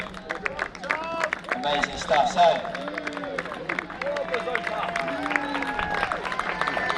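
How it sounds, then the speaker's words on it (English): Spectators at a Tonbridge AC open athletics meeting cheer and clap for a race walker in a 3000 m walk, a steady mid-distance crowd roar with scattered applause running beneath a commentator's talk throughout. "So let's give Tom a big cheer on his first 200 metres."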